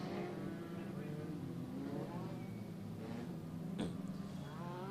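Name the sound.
Legend race cars driving off the speedway track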